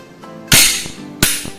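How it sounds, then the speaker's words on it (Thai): Slide of a Glock G30S .45 ACP compact pistol racked by hand, giving two sharp close metallic snaps about 0.7 s apart, each with a brief rattling tail, and no talk. "สไลด์ปืนนี่มันค่อนข้างจะนิ่มนะดึงง่ายนะ"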